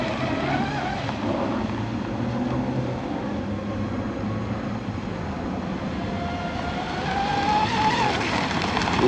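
RC fiberglass hydroplane boat, an American-made J&R Marine H26, running on water with a steady, loud buzzing engine drone that rises slightly near the end, continuous and without voices.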